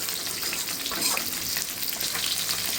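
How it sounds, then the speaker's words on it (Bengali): Tengra fish crisping in hot oil in a pan, with a dense, steady sizzle and crackle close up and no talking. "মা বলছে মাছটা একটু কড়া করে ভাজতে হবে"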